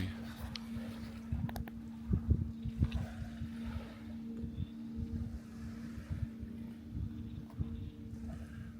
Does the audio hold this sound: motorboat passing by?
yes